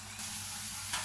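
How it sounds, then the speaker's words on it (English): Running tap water rinsing lettuce in a home kitchen during burger prep, a steady faint hiss with a slight surge near the end, no talking. "Washing my lettuce out, rinsing it."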